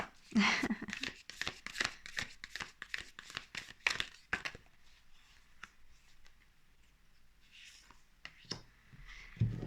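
Tarot cards being shuffled during a card reading, with quick bursts of riffling and flicking clustered in the first few seconds, then sparser soft card sounds and brief quiet speech.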